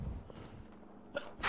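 A single short sneeze lands near the end, fairly faint and close, after a stretch of quiet room noise while someone plays Apex Legends.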